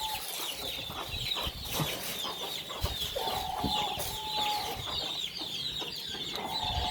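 Chickens cluck steadily on a small home farm where rabbits are also kept, with no voices and a continuous low outdoor background.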